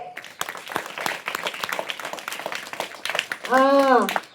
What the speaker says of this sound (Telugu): ఓకే, క్లాప్స్ కొడదాం ఒకసారి